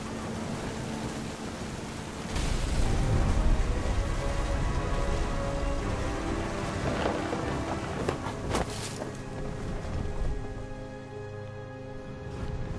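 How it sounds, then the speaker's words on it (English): Steady heavy rain from a thunderstorm in the video game What Remains of Edith Finch, a continuous broadband wash with a few sharper cracks, filling the scene without any talk. "The thunder sounded much too close and full of angry power."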